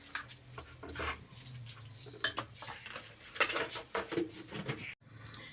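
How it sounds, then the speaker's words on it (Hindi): A spoon stirs flour batter for crisp bread sandwiches in a bowl, making close, irregular scraping and clinking against the bowl before a sudden stop near the end. "अच्छी तरह से इसे मिक्स करेंगे"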